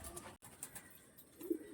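Soft, faint cooing of a pigeon, low and brief near the end, amid a quiet background with scattered higher bird chirps.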